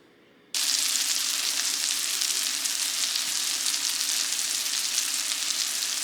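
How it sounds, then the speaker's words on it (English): After a brief quiet moment, salmon cakes hit a hot cast iron skillet and a loud, steady sizzle of frying continues close by. "I'm frying my salmon cakes in a cast iron skillet on top of the stove"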